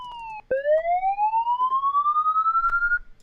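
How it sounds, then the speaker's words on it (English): A software-triggered siren effect starts with a short tone, cuts off, then restarts with a single rising wail that climbs steadily, loud and clean with a faint pulsing warble. "so now FX siren. And it re-triggers every time."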